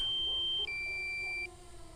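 Two sustained electronic low-battery beeps from a DJI Mavic drone, the second lower in pitch, clear and close, followed by a quieter motor hum.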